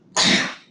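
A single sharp sneeze bursts out close by, loud and breathy, then fades quickly into silence.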